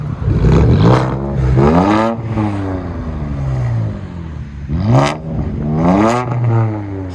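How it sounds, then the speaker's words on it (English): Infiniti Q50 S with a true dual 1.75-inch straight-piped exhaust into 4-inch tips, loud and raspy, revving hard twice with rising and falling pitch sweeps, close by. "True dual straight pipe, 1 3/4 into 4-inch tips. Yeah, it's a lot louder. It's more raspy."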